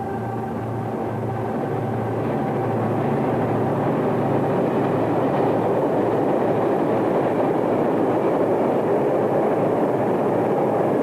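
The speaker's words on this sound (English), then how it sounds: "A little further down, a pair of GP40s speed east with a short freight." Two GP40 diesel locomotives hauling a short freight speed east past the listener, a broad steady roar of engines and rolling wheels that builds and holds loud throughout.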